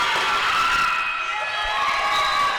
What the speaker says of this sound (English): And that Rankin crowd cheering on that free throw shooter right there.